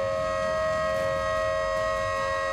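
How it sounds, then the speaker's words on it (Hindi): A hooter siren sounds at the start of an earthquake mock drill in a Karnal market, holding one steady, unbroken wail at full volume with no voices. "मॉक ड्रिल की शुरुआत हूटर बजाकर की गई।"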